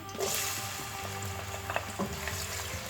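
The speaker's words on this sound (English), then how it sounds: "I'll allow the vegetable oil to heat up a bit before adding the garlic and the chopped onion." Chopped onion and garlic hit hot vegetable oil in a pan for chicken and vegetable fried rice, giving a steady close sizzle with a few light stirring clinks and no talking.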